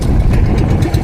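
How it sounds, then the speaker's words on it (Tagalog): A fishing boat engine runs loud and close at sea in the Pacific, chugging with an uneven, stuttering rhythm as it misfires. "Palyado ang ating makina."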